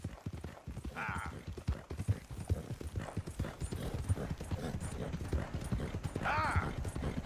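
Horse hooves clip-clop in a steady riding rhythm in Red Dead Redemption 2, close and continuous, with brief voice snippets and a faint whinny over the gait.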